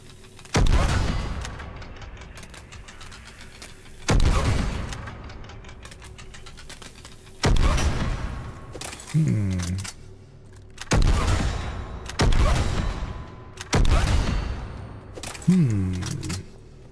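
In the game Mass Effect 3, heavy weapon bursts go off in about seven loud, sharp blasts spaced a couple of seconds apart, each ringing out with a booming decay.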